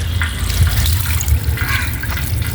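Water is poured onto a newly planted flower plant in a home garden, a steady splashing trickle that runs close and continuously with no talking.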